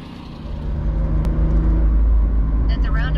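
A small three-cylinder engine in a Japanese import car rumbles steadily as it pulls away, heard from inside the cabin with a low, rising drone; a brief chirp and faint navigation-style sounds appear near the end.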